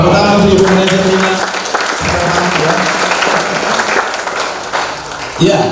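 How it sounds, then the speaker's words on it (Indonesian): Training session audience clapping for manager Rina, loud and close, with a voice talking over the applause and another voice cutting in near the end. "Tepuk tangan untuk Ibu Manajer Rina"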